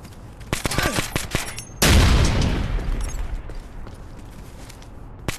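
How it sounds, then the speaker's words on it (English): A frag grenade bursts in the Ghost Recon: Future Soldier game. A heavy blast hits about two seconds in, loud and broad, and decays slowly over the next few seconds. Scattered gunfire pops precede it. "Throwing a frag."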